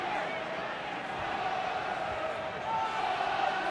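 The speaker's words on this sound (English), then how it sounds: "The crowd baying for a penalty" Rugby stadium crowd at a Munster versus Maori All Blacks union match, a steady, loud roar of massed voices rising slightly toward the end, with a commentator talking over it.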